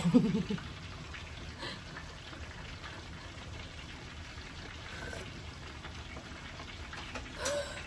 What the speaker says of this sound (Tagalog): Umuulan-ulan na naman.